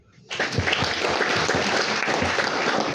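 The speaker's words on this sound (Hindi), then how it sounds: "इसके लिए ताली बजाओ।" After a brief quiet moment, a crowd breaks into sustained clapping that stays loud and dense to the end.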